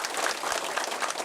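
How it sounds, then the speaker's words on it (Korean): A crowd at an election campaign camp cheers and applauds in a dense, continuous roar of clapping and shouting, close and lively throughout. "10년 만에 제주의 새로운 교육수장이 탄생하는 순간 선거 캠프에는 환호성이 넘쳐났습니다"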